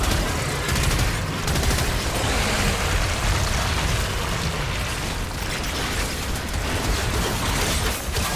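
Relentless gunfire in the Warframe game, a dense, loud barrage of shots and booming bursts pounding on continuously with no letup.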